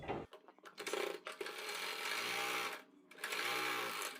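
A sewing machine stitches a folded blouse hem at a quarter inch, running close and steady in two bursts separated by a brief pause.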